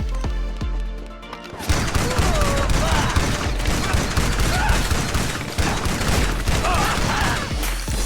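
Loud repeated weapon bursts from a close-range gun in GTA Online, starting after a brief quieter lead-in and continuing as dense rattling volleys with impacts for several seconds.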